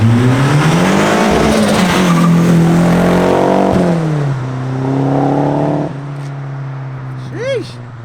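A Nissan car with a recirculated turbo wastegate revs and accelerates loudly nearby on a road, pitch rising and falling through gear changes, with people talking over it.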